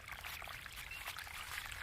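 Water in a mountain stream trickling and pouring, a steady, continuous rushing wash that stays fairly even in loudness and has no voices.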